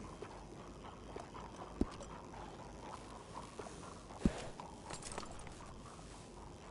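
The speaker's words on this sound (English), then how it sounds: "Seen quite a few horses coming through with Spaven" Horse hooves clip-clop in a video game, a faint, steady walking patter under low background noise, broken by a couple of sharp louder knocks.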